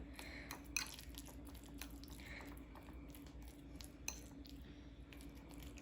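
A fork mashing and mixing avocado in a bowl, soft squishy scrapes with a few sharp taps of metal against the dish, close and quiet over a low steady hum.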